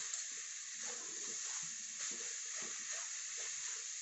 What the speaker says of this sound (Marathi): गाजर हे छान परतून घ्यायचे आहे।